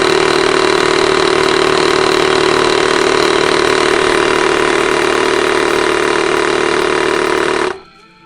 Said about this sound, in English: I'm just gonna put a little bit of air in it. so you can hear what this thing sounds like too